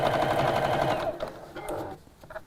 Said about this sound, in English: And then we'll sew all the way around.